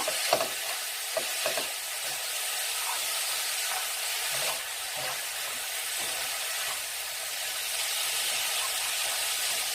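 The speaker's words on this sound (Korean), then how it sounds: "이렇게 냄비 밑에 거품이 바글바글 일죠" Sweetened braised burdock root sauce bubbles and sizzles steadily in a pot as it reduces, a continuous close hiss with a few soft clinks early on.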